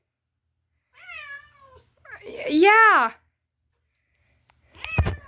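A house cat meows several times nearby, with clear, drawn-out calls and a longer loud one in the middle, while a person speaks briefly between them.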